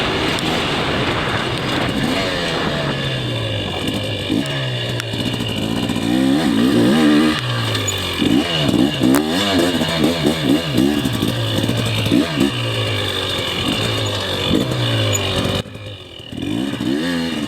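A 2024 TC 250 two-stroke dirt bike revs continuously while riding, its engine pitch rising and falling through repeated throttle blips and gear changes, loud and close, with no talking.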